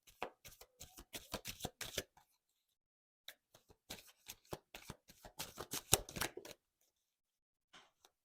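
Tarot cards being shuffled by hand in repeated quick bursts of riffling flutter with brief pauses between, soft and close.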